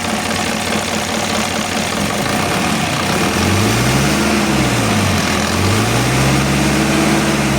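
A car engine runs steadily and loudly up close after a leak repair ended its misfiring, its drone rising and falling as the revs are swept up and down, with no voices.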